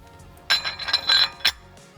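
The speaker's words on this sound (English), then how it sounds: "Now we can throw this beautiful spacer on." A metal wheel spacer is set onto an Audi B9 hub, making a short cluster of bright metallic clinks and scrapes close up, about a second of rattling contact followed by a final sharp tap.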